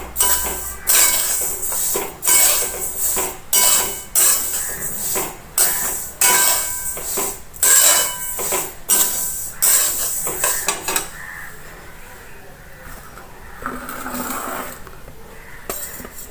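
Sesame seeds roast in a pan over medium heat, stirred with rhythmic scraping and clacking strokes for about eleven seconds, then a quieter low sizzle remains.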